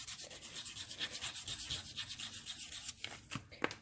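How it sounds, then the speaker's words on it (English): A small piece of wood is sanded by hand in quick, rhythmic back-and-forth rubbing strokes, close and fairly quiet, with no talking. "And then I'm just going to sand it down."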